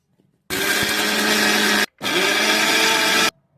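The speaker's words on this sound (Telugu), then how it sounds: "మిక్సీ పెట్టాను మిర్చి" A kitchen mixer grinder blends mint chutney ingredients (green chillies, salt and garlic) in two loud, close bursts of about a second and a half each, split by a brief pause, with no talking.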